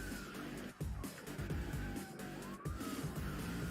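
A speeding car in a police chase locks its wheels on a hard right turn, tires squealing and skidding over loud engine roar, with a police siren wailing close by throughout.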